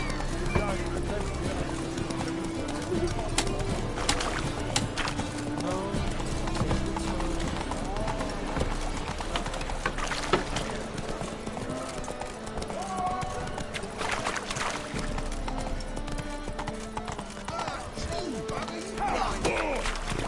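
Geralt's horse Roach gallops in The Witcher 3, hooves pounding in a fast, continuous clip-clop close by, mixed with game sounds and occasional voices.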